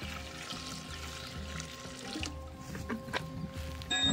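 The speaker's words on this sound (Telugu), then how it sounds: "కుండలో పోసుకోవాలి." Liquid is poured into a clay pot for kunda chicken, a faint, steady watery trickle set against a low background hum, with no voices.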